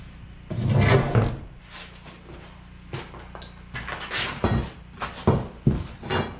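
Chunks of crumbling concrete being knocked out of a corner of an abandoned church's failing foundation wall, with repeated loud thuds, scrapes and clattering debris at irregular intervals, close by.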